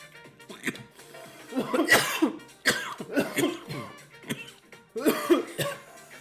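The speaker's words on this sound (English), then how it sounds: "Still gonna cough my brains out" One person coughs repeatedly in several harsh bursts spread across the stretch, close and fairly loud with short pauses between fits, no speech.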